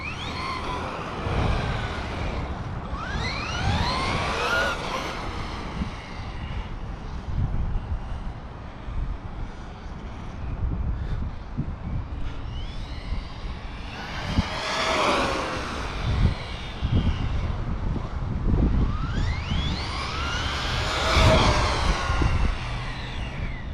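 A Traxxas Rustler 4x4 VXL RC truck on Pro-Line Destroyer tires runs with rising and falling motor whine across several fast passes, some near and some farther off, over steady outdoor wind and ground noise.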